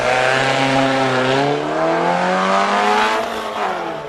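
Single-seater racing cars at a Cape Town hill climb event give a loud, close engine drone whose pitch rises and shifts through gears, sustained throughout.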